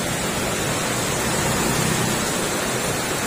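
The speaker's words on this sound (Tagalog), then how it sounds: "Medyo may kalakasan yung ulan." Heavy rain pouring down steadily, a dense continuous hiss close by with no voices.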